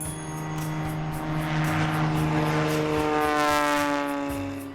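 A tail-wheel airplane takes off in a three-point attitude with 20 degrees of flaps, its propeller engine droning steadily at full power, a rich harmonic hum that swells slightly midway and holds, fairly close with no talking.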